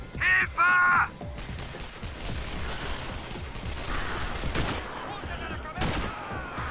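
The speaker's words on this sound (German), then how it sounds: "Wer oder was schießt da auf mich?" Bursts of gunfire in the video game Sniper Ghost Warrior, scattered cracking shots and rattling volleys at moderate distance over a noisy background, with a short electronic tone at the start.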